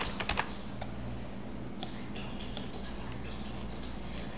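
Several quick clicks on a computer keyboard open the stretch, followed by sparse single keystrokes over a low steady hum, soft and close, with no voice.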